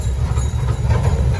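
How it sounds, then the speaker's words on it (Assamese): A train sets off on a journey, its rail cars giving a loud, steady low rumble with rattling wheel noise and faint clatter, heard close up without talk. "ষ্টাৰ্ট হৈ গ'ল একদম পুৰা ট্ৰেইন জাৰ্ণি আমাৰ"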